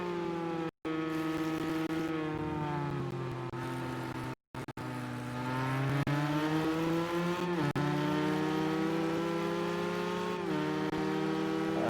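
Race car engines at the Le Mans circuit in Project Cars 2 GTE racing, with an Aston Martin and a Porsche: a loud, steady, high-revving engine whine rises in pitch through the gears with brief shift dips, running continuously and close.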